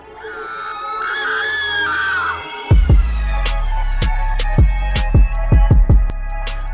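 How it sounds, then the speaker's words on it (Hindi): Girl screaming in a horror story game, a long wavering high shriek at first, then heavy booming thuds and crashing impacts that repeat loudly and close. "तभी अंदर से गुली के चीखने चिल्लाने की"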